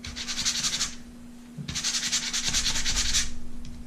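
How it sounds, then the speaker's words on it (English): Sandpaper scuffs a knife sheath piece in two bouts of quick back-and-forth rubbing strokes, close by, with a brief pause between them. "just take your sandpaper, scuff up both sides"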